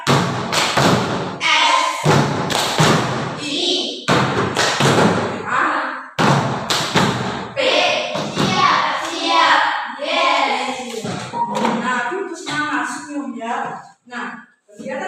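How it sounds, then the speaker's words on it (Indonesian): A class of children in a school classroom performs the 'tepuk siap' clapping chant: a run of sharp, rhythmic hand claps, followed by chanting voices and an adult teacher speaking. "Coba kita lakukan tepuk siap seperti ya."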